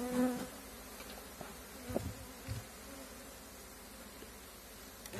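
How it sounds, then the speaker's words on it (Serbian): Honeybees buzz softly around an opened hive during a chestnut honey harvest, a faint, steady drone with a few brief louder passes and handling knocks, no talking. "Uglavnom, eto vidi, ima pčele"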